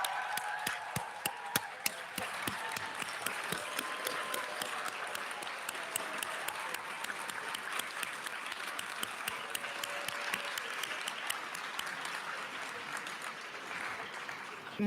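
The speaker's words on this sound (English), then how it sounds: "rise if able, so we could applaud you for the role you've played in getting these students here today" An audience at a Princeton SPIA graduation hooding ceremony applauds the graduates' families, with dense, steady clapping that fills a large hall and holds an even level throughout, without talk over it.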